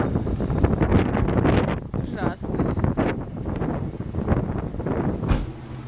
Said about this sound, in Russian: А сегодня опять ветер.